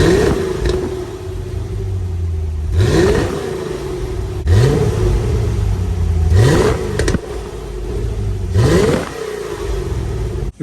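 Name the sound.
1989 Chevrolet Corvette C4 exhaust revving before muffler delete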